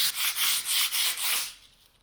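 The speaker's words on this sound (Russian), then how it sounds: "Она шкурится намного легче, чем ротбанд." Rhythmic back-and-forth sanding of Volma gypsum plaster with Mirka Mirox P80 sandpaper on a ceiling or cornice, six close, steady abrasive strokes that trail off into quiet.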